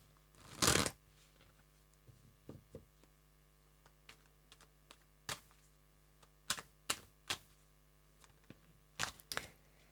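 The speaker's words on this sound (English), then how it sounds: "Do one more shuffle." Tarot cards being shuffled in several quick riffling bursts, the first loudest, followed by scattered soft taps and flicks, close to the microphone with no voices.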